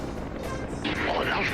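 Heavy gunfire in the combat flight simulator DCS World, a dense, roaring rumble of aircraft guns strafing a ground target, loud and continuous with engine noise, voices talking over it.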